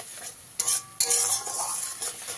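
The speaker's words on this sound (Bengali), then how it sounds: "দিয়ে এবারে মশলাটাকে খুব ভালো করে কষিয়ে নেব।" A spoon stirs spice masala with a little water in a pan while it fries. The scraping strokes come close and moderately loud over a soft sizzle, and there is no talking.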